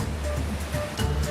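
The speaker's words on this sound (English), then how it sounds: "The sheer force of the water rushing through the gorge creates a powerful mist and a thunderous sound." Murchison Falls, a powerful waterfall forcing water through a narrow gorge, roars as a steady, loud, broadband rush with no breaks.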